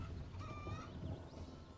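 A chicken in RuneScape 3 gives a few short, faint, nasal clucking calls over a low, steady game background.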